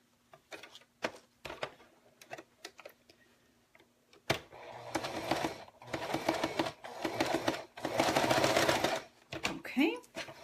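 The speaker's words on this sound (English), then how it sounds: "I'm just going to sew on the back side right here" A sewing machine stitching paper-pieced fabric for a snowman quilt block runs in several short bursts and then longer continuous runs, close and fairly loud, with a few clicks between.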